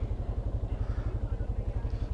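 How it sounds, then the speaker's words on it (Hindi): A Hero Xpulse 200 motorcycle in a hilly village area is being started and settles into a loud, close, rapid thumping idle with an even, throbbing pulse. "काले अभी बाइक स्टार्ट कर रहा है।"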